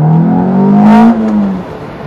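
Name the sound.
sports car engine revving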